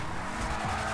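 A Batmobile mod in GTA 5 roars with a loud, steady car engine note and a tire-squeal edge, continuous for about a second with no talk.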